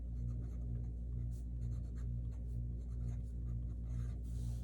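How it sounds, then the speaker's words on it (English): Handwriting a math formula in a classroom, soft steady scratching and tapping strokes over a constant low hum. "Well, we write out our formula."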